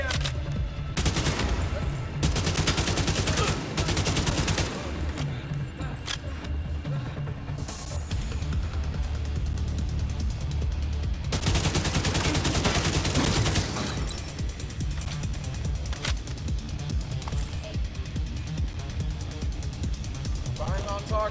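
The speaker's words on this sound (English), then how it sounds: "Firing on targets" Sustained gunfire in the video game The Division: dense, continuous bursts of automatic fire layered with rapid shots and mechanical clatter, loud and close, under excited voices calling out to each other.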